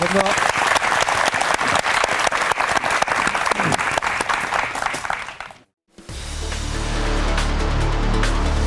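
Audience applause at a televised mock crowdfunding pitch show fills the first five seconds with dense, loud clapping, then breaks off abruptly before a different sound takes over.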